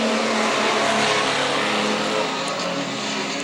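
Race car in the 19 position during a race, its engine a continuous loud broadband roar that holds steady throughout, close and dominant with no talk over it.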